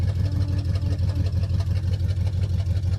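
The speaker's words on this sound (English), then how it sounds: "Just sit there and warm it up a little bit so I can get it to idle." A 1973 Chevy Chevelle engine warms up at idle, a loud, steady low rumble with an even, pulsing beat close by and nobody talking.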